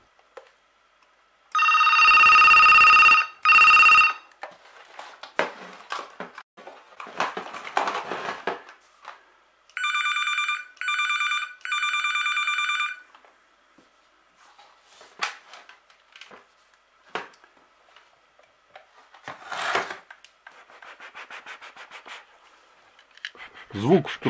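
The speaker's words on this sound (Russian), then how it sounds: "Второй телефон зазвонил." A wired telephone, one of two handsets joined on a homemade line, rings in two loud bursts of electric bell ringing several seconds apart, with quieter handling clatter and movement between the rings.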